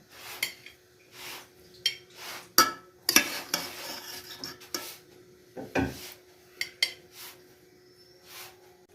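Halwa made from wheat flour (atte ka halwa) being dished out of a pan, with a run of scattered scraping and clinking strikes of a utensil against metal, spaced irregularly and fairly close.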